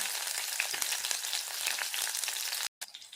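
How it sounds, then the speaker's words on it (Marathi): Green chillies and mustard seeds frying in hot oil for kanda poha give a loud, steady, close sizzle with crackling pops throughout, cutting out briefly near the end before resuming. "आपण इथे लगेच घालून घेणार आहोत हिरव्या मिरच्या"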